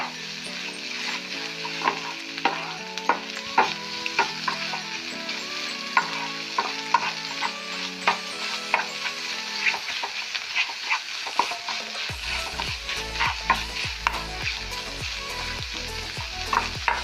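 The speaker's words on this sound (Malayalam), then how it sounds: "മുട്ടയൊക്കെ നന്നായി ഫ്രൈ ആയി" Egg frying in a pan with crisp continuous sizzling and frequent spatula scraping, close and steady throughout with no talk.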